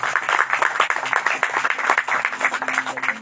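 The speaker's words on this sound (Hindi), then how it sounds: "तो ये एक बार प्रभु के लिए ताली बजाते" A church congregation claps for the Lord, dense overlapping handclaps in a steady rhythmic wash, with voices faintly mixed in.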